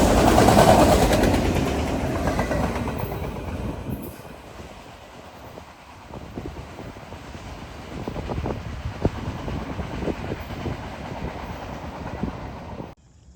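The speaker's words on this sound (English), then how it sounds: "On the Lehigh Line, 18N carries a solid string of loaded auto racks" A Norfolk Southern freight train hauling a solid string of loaded auto racks on the Lehigh Line rolls past, with steady rumbling and clattering wheels, loud at first and then settling into a continuous passing roar that cuts off at the end.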